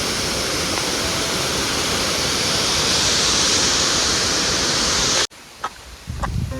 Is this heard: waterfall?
yes